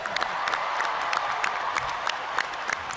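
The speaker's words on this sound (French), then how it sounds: "Le pape François s'est ensuite rendu sur ce balcon pour saluer la foule de fidèles venus l'applaudir." A crowd of faithful applauds Pope Francis as he appears on a balcony, a steady wash of many hands clapping with scattered sharper claps and faint cheers, fairly distant and continuous.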